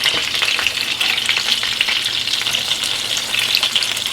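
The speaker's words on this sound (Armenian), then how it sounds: "սուր ենք տալիս, տապակում ենք մյուս երեսից։" Cutlets sizzle loudly in a frying pan as they are turned to brown the other side, a dense, crackling fry that stays steady and close with no talking.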